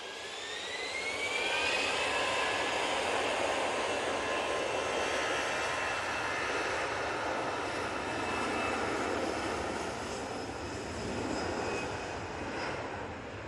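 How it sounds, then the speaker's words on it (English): An easyJet airliner on its takeoff roll at Manchester Airport, jet engines swelling into a loud sustained roar with rising whine, heard from a distance and holding steady as the aircraft accelerates, with no talking. "Easyjet now on the roll off to Gibraltar."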